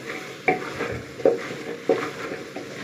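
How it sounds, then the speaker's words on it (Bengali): Chana dal and potato curry being sautéed in a pan, a low sizzle broken by three or four sharp spatula scrapes at a slow, even pace, nearby and without talk. "ভালো করে কষিয়ে নেব"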